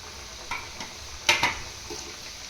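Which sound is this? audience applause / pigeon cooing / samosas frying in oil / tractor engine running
samosas frying in oil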